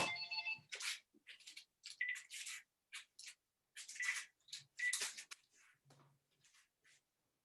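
A phone rings briefly at the start of a home fitness breathing session, a short electronic ringtone cut off quickly, followed by scattered rustling and clattering bursts as the phone is handled.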